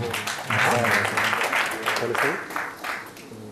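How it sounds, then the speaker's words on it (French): Audience applause at a Guinean event on agriculture and infrastructure with the World Bank, short and fairly loud, with voices talking over the clapping. "est-ce qu'on peut les applaudir s'il vous plaît"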